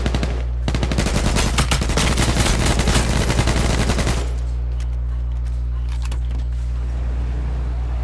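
A light machine gun in the H1Z1 battle royale video game fires a long, loud stream of rapid shots for about four seconds, then a few scattered shots sound over a steady low engine hum.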